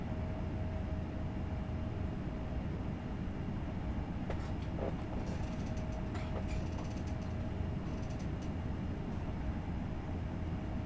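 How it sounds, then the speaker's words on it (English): Steady rolling rumble of a train running in Train Sim World 3 on the Kassel to Würzburg route, with double-deck coaches, a constant low drone and faint rattles and clicks from the wheels, no voices over it. "Choo-choo train."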